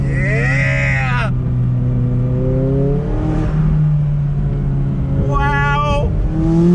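A McLaren 570S Spider with its top down and a 7-speed dual-clutch gearbox accelerates hard. The engine note climbs in sustained rising sweeps, and a quick shift interrupts it before the next pull. The sound is loud and close, with no talking.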